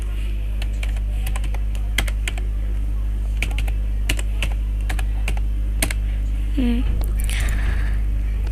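Steady typing on a computer keyboard, with crisp keystrokes scattered through the clip over a loud constant low hum, plus a brief rising tone near the end and no speech.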